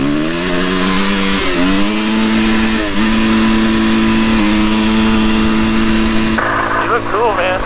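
Dirt bike engines droning steadily on a snowy mountain ride, a loud buzzing tone that dips and rises with throttle changes and shifts, then fades into lighter rising revs near the end.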